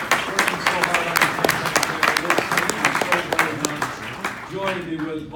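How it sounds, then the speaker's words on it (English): Crowd applause at a Michigan political rally for a Senate candidate, with dense, crackling clapping throughout, mixed with cheering and crowd voices, fading slightly near the end. "Give Liz a round of applause."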